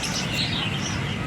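Pet parakeets (keets) chirp inside a cage, a dense, continuous chatter of small high tweets close by, with a low murmur of background noise underneath.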